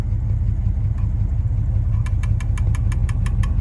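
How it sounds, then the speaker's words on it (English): A Plymouth Diplomat engine idling at about 700 RPM with a valve train fault, a low steady rumble overlaid by a sharp, evenly spaced metallic ticking that emerges clearly in the second half, roughly five to six ticks per second. "we've got a tick, tick, tick, tick, tick, tick, tick."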